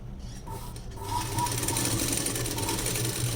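A sewing machine runs steadily while stitching the front of a net blouse, with a low mechanical hum and a rapid needle rhythm that picks up speed after a brief start, close and alone.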